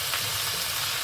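Tinolang manok cooking in a pot while being stirred: a steady sizzle runs throughout, with soft scraping and stirring movement beneath it, close and continuous.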